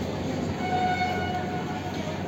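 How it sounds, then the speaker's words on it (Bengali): A Sealdah–Ranaghat AC EMU local train pulls into platform one at Bidhannagar Road station on an Eastern Railway line, a steady loud rumble and whine filling the whole stretch, with faint tonal horn-like lines over the running noise. "31637 up Sealdah Ranaghat AC EMU local 1 নম্বর প্ল্যাটফর্মে আসছে।"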